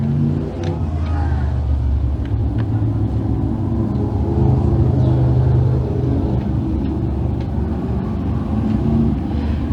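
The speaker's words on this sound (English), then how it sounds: "Panther Frameworks, Great Sprint Cars, ready to roll trackside next for their one and only heat here tonight" Sprint cars rolling onto a speedway track for a heat race, a continuous loud low engine rumble and drone with no break, steady throughout.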